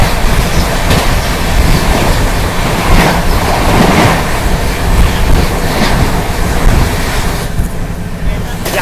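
Banaras New Delhi SF Express rolling along, heard from inside a sleeper class coach near Hathras Junction, with steady loud rumble, wind roar and rhythmic track clatter throughout.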